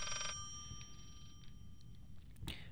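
A telephone bell rings in the horror video game Layers of Fear: a bright, clanging burst at the start, then fainter ringing tones fade out over low ambient rumble.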